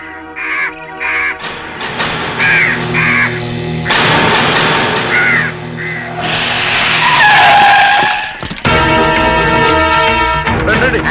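Harsh cawing calls repeat over a loud, dense background of screeching, roaring noise, with shrill squealing rising in the middle.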